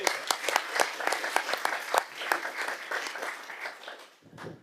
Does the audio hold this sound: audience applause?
yes